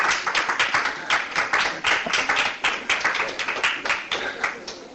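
Audience clapping at a Spanish-language arts competition and awards panel discussion, a continuous, dense patter of many hands held at a steady, fairly loud level throughout.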